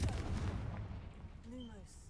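A Confringo blasting spell explodes in a Hogwarts video game as a muffled, moderately quiet boom that fades into a short ringing tail, with a voice faintly present.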